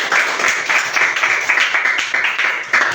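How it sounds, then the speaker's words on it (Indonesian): A classroom group receives a round of applause: continuous loud clapping from many hands, close and dense for the full few seconds, with no talk over it. "beri tepuk tangan untuk kelompok"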